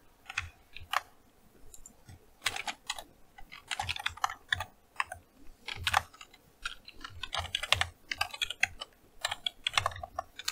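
Rapid typing on a computer keyboard, irregular bursts of crisp key clicks close to the microphone, with brief pauses between runs of keystrokes and no talking.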